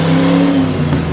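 A hand-painted Fox-body Mustang, the 417 Fox, revs its engine close by, a loud sustained growl with a steady tone that dips slightly toward the end; no voices.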